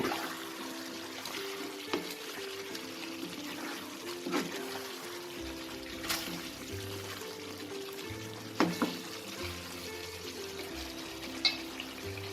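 Garam masala is stirred into a Mughlai saffron chicken korma in a pan. A faint, continuous sizzle sits over a low hum, broken by occasional light spoon scrapes against the pan.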